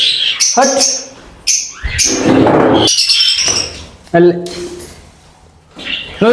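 Frightened birds in an aviary give sharp chirps and squawks in short bursts, mixed with people talking nearby.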